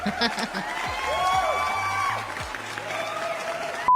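A congregation claps during a church Bible-study session; brief clapping and a few whoops run under voices talking, then a sharp knock closes it.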